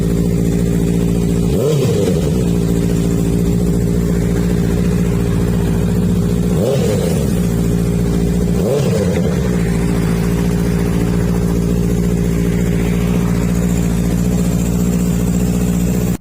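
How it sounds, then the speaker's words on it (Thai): A black 2018 Honda CBR650F sport motorcycle idles steadily at close range, its engine blipped into three sharp revs around two, seven and nine seconds before settling back to a smooth idle, with no talking. "ฟังเสียงเครื่องยนต์นะครับ"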